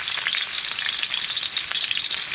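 Onions fry in hot oil for a village-style brinjal curry, giving a dense, continuous crackling sizzle close by with no talking.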